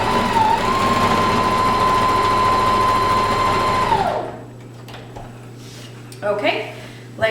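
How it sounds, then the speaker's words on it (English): A sewing machine stitches elastic onto leggings fabric in one loud, steady, rising whir for about four seconds, then winds down and stops, followed by quieter handling noises. "I'm just going to anchor this here with a couple of stitches"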